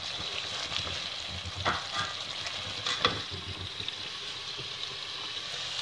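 Chicken gravy fries in oil in a pan for a Punjabi chicken karahi, giving a steady close sizzle with occasional soft stirring scrapes and no talk.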